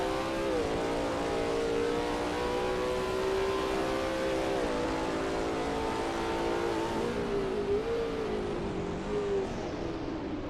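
A Lola T70 MkII Spyder race car engine in a video game roars steadily at high revs at Sebring, its pitch rising and dipping with gear changes, loud and continuous throughout.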